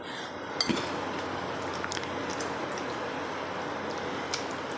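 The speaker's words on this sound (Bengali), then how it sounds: "পুরো 1 ঘন্টা পর আমি ঢাকনাটা খুলেছি।" A metal lid lifted off a cooking pot of Bengali-style mutton with mustard and poppy seed: a short clink of metal near the start, then faint rattles and a steady soft background.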